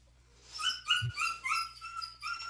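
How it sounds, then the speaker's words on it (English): A puppy whimpers and yelps close by in a series of high, thin cries, about five wavering squeals in quick succession over a faint background hum. "The screaming puppy."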